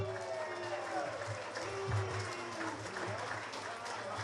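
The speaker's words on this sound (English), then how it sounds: "How about a big round of applause for 5-time champion Dave Alkis?" Stadium crowd at Plainville Stadium applauding a 5-time champion racing driver, a steady wash of clapping and crowd noise with a voice talking over it.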